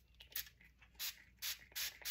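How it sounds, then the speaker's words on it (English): White gloss spray paint hisses from an aerosol can during a scrapbook papercraft project, coming as several short, close bursts separated by brief pauses. "spray it with some white gloss spray"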